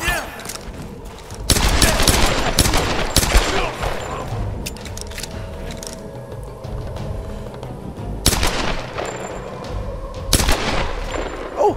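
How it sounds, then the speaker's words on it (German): Gunfire in Tomb Raider cracks out in loud, sharp shots and short rapid bursts, clustered near the start and recurring later, with a speaker talking between and over the shots. "Kopfschuss auf die Entfernung."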